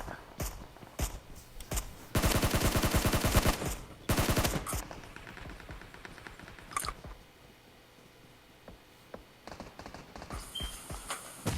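Rapid automatic gunfire in a PUBG match, with dense loud bursts of shots at close range followed by scattered single shots and quieter footsteps.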